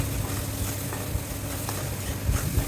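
Spice paste of turmeric, chilli, coriander, cumin, ginger and garlic sautés in a pan, a constant close sizzle with soft low scrapes and knocks from stirring scattered through it.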